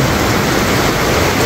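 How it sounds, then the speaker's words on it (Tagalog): Heavy rain comes down suddenly in a dense, loud, continuous hiss with no breaks, recorded close by near a tent at a hidden spring in Dingalan, Aurora. "Grabe, bumigla ang ulan."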